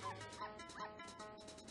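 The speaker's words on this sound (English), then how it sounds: "That's a dog." A dog barks in the Secret Agent Barbie: Royal Jewels Mission video game, a few quick bow-wow yips over busy game music.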